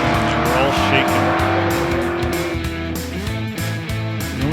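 Big-tire drag race cars launch at Sick Week 2024 on overly sticky track prep, shaking as they go; loud, close engines roar and step through revs with tire squeal mixed in.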